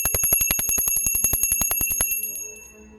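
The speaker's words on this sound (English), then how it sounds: "there's a need for me to definitely hit that bell today" A bell struck in rapid, steady repetition about twenty times, bright and ringing with sustained metallic overtones, then left to decay into a fading hum; loud and close, with no voices.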